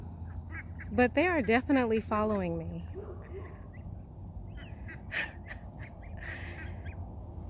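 Ducks quacking in a loose burst of several harsh, rising calls up close, then fading into scattered softer calls, with a person talking over and around them outdoors.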